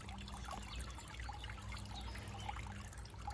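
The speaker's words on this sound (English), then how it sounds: "And then I just take it out, let it drain a little bit." Water trickling and dribbling off soaked perennial plant roots as they are lifted out to drain, a steady low splashing stream throughout with no talk.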